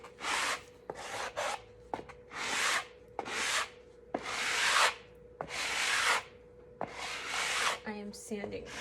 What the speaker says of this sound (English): I am sanding with the grains from what I recall, so we don't scratch the board.